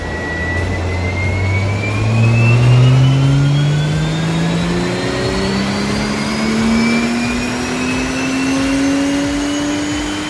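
Tuned Stage 2 BMW M840i engine on a dyno, rising steadily in pitch as it revs up over about ten seconds, loud and continuous with no talking.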